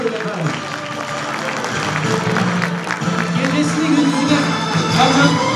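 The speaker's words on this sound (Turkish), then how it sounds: "kıymetli annelerimize kocaman bir alkış istiyorum" At a kindergarten year-end show, a crowd of parents and guests claps continuously and fairly loudly, with cheering and a speaker's voice carrying over the applause.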